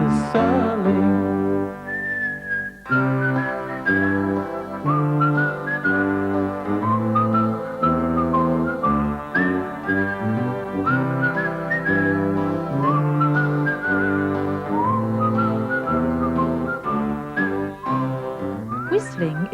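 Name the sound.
person whistling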